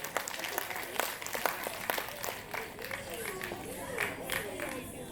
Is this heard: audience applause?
yes